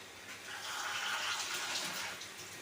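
Water from a bowl is poured onto a steel plate covering a pot of cooking dal, giving a soft, continuous splashing rush for a couple of seconds, faint and close.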